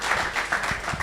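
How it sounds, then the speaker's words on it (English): Brief burst of audience clapping for a business conference panel, fairly close and steady for about a second. "If we can give them a round of applause,"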